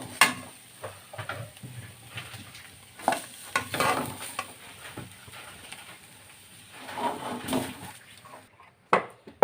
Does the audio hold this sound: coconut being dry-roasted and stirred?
yes